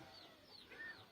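A brooding hen settled on a clutch of eggs gives a soft, faint run of low clucks and a brief rising croon, close by and without talk.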